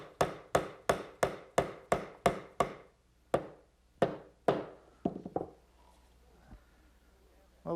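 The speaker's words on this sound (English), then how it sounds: "Maybe just a little gentle persuasion from a rubber mallet." A rubber mallet taps a wooden dovetail joint into its slot on a candle stand: about eleven sharp, hollow knocks in a quick even series, then a pause and a few lighter taps, close and without talk.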